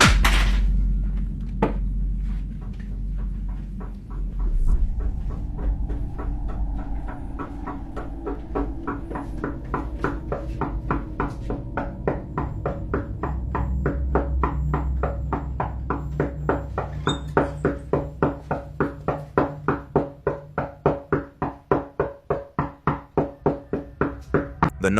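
Steady tapping knocks from behind a tall cupboard inside a house, starting sparse and soft, then building into a fast, regular series of sharp raps that grow louder and more insistent toward the end.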